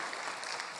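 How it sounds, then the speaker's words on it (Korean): Church congregation applauding the choir at a Sunday afternoon service; a brief, soft wash of many hands clapping, faint and distant, steady for under a second with no voices over it. "우리 성가로 찬양으로 섬겨주신 권사님들께 박수 한번 드릴까요?"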